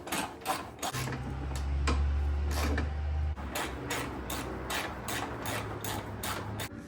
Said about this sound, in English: now I'm gonna tighten up the top strut nuts.